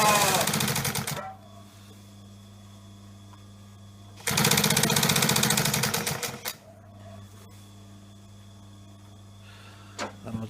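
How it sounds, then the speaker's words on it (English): A walking foot sewing machine stitches leather piping in two bursts of rapid, loud mechanical chatter, each lasting a couple of seconds, separated by quiet pauses with a steady low motor hum. "It helps if you've got a walking foot sewing machine."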